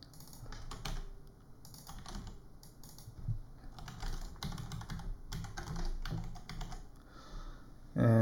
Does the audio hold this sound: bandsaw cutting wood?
no